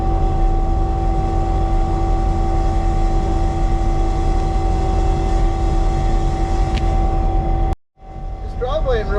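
A Caterpillar 275 CTL skid loader with a tiller scarifies a worn gravel driveway, its engine droning loud and steady up close before cutting out abruptly near the end.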